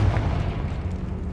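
A Confringo blast curse from Hogwarts Legacy erupts as a dense, rumbling explosion, loud and sustained, with a heavy low roar running through the whole short burst and no talk over it.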